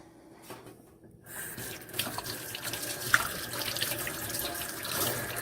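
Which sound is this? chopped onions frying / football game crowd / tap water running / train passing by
tap water running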